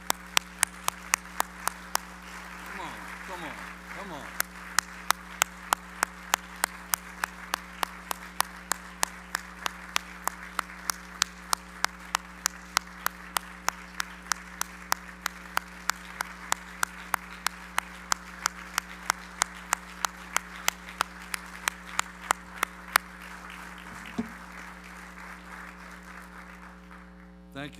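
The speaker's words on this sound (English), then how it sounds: "great round of applause." An audience at a fraternity brotherhood session gives a long round of applause, steady crowd clapping sustained for nearly half a minute with sharp louder claps standing out, and a brief spoken voice near the start.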